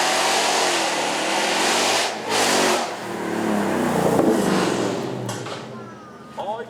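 A 5-litre naturally aspirated V8 with a stage 4 build and GT350 parts, around 525 horsepower, roars loudly and steadily at a supercar show, surging and easing with people talking over it.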